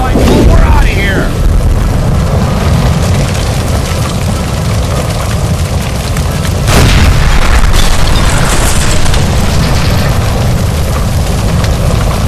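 A gas line blowing up in the L.A. Noire game: a sharp blast near the seven-second mark cuts through constant loud rumbling game noise and shouting voices.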